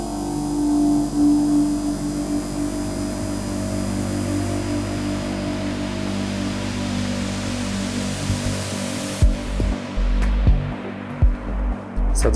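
Synthesized noise run through a psychedelic phaser with feedback, a loud, steady, sweeping wash with sustained tones that cuts off near the end, leaving a few sharp bursts and clicks.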